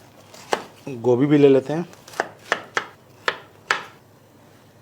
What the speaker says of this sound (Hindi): अब हम ले रहे हैं बेबी कॉर्न, इसे हम इस तरीके से बराबर साइजों में काट लें।